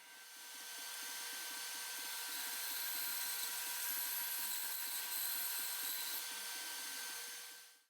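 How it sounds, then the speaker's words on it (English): A bandsaw slices a dried banksia pod into thin cookies, with a steady high-pitched blade whine and rasping cut that rises in over a second, holds for several seconds, then tails off at the end, with no talking. "With the bandsaw, I'm going to slice them into 1/4 inch thick cookies."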